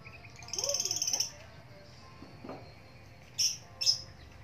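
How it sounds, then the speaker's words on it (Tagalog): High, thin bird chirps trill for under a second, then two short sharp calls follow, faint against quiet outdoor background. "ang ibon"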